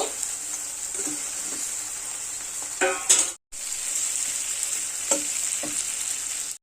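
Tangra fish drops into hot, well-fried masala in a pan and sets off a loud, steady sizzle, with a few clinks and scrapes of a spoon and a brief break near the middle.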